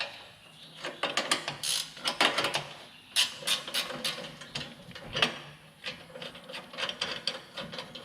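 A hand ratchet works a 13mm bolt out behind the hood latch of a GMC Sierra, giving close, rapid bursts of clicking pawl teeth between short pauses.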